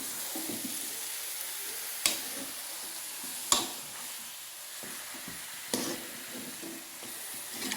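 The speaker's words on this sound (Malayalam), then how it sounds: "ഇനി നമുക്ക് ചിക്കൻ ഇട്ട് കൊടുക്കാം. ചിക്കൻ ഇട്ടിട്ടുണ്ട്. ഇനി നമുക്കൊന്ന് യോജിപ്പിച്ച് കൊടുക്കാം." Chicken pieces coated in masala sizzle steadily in a hot pan, with the scrape of stirring and a few sharp clinks of the spoon against the pan, no talking.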